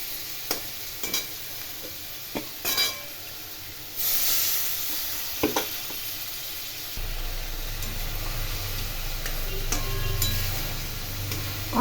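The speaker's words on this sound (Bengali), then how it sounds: "এটা কষিয়ে নেব।" A paste of ground poppy seed, sesame and chilli is stirred in a pan for a Bengali katla fish curry. A few spoon scrapes and clinks come first, then a steady sizzling hiss builds and holds.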